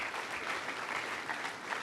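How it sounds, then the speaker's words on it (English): An audience at a fintech blockchain summit applauds the fireside chat speakers, with dense, even clapping filling the room throughout. "give our fireside chat speakers a round of applause"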